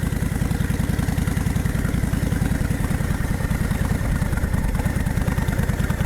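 A Honda VTX1300 motorcycle's V-twin engine pulling out of a parking area in first gear, a loud, close, steady low-pitched throb with rapid even firing pulses throughout, no talking.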